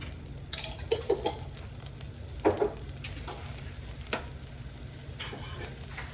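Minced garlic and garlic paste sizzle in a pot still greasy from cooked sausage, a steady soft frying hiss running throughout with a few clinks and stirring scrapes on top.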